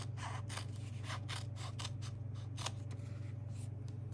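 Scissors cutting paper for journal decoration, a steady run of crisp snips and scraping blade strokes, close up over a low constant background hum, with no talking.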